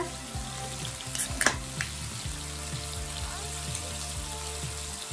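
Meat for yakiniku sizzles and crackles on a hot plate at home in Hokkaido, a steady close frying hiss broken by a few brief clinks and scrapes, with no talking.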